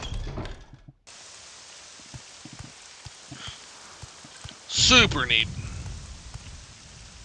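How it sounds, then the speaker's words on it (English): Steady rain hisses on the ground in Morrowind, constant and moderately loud, with scattered low thumps and a brief voice breaking in near the end. "And it's fucking raining, because of course it is."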